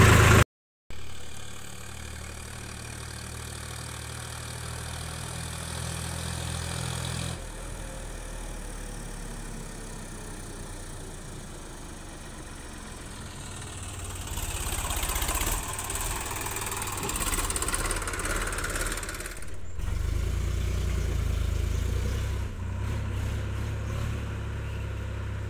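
A Sonalika DI 42 tractor engine runs steadily on the way to a paddy grain market, a low continuous rumble that grows louder and rougher partway through, with no talking.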